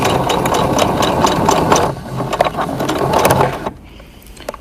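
A sewing machine back tacking a fabric face mask runs in a steady, close mechanical whir for a few seconds, pauses briefly, then runs again before stopping.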